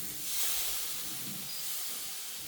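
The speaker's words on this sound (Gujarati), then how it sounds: "ધીમા ગેસે એને આપણે સાતળી લેવાનું છે, એટલે સરસ સતળાઈ જાય." Green pea kachori filling sizzles in a pan on low heat, giving a soft, steady hiss with no voices.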